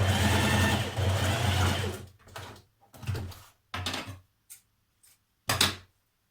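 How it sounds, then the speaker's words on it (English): Sewing machine stitching a short seam to join bias binding strips cut from scrap fabric, starting with a back tack: a steady whirring run, then several short bursts separated by pauses, fairly close with no talk. "So sew that now with a small seam, back tack first, so it doesn't unravel."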